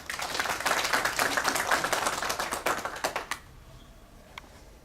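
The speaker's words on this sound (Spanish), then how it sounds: "Recibámoslo con fuertes aplausos." An audience claps to welcome a speaker at a ceremony on public-service ethics, a dense run of hand claps for about three seconds that thins out and stops abruptly, followed by quiet room tone.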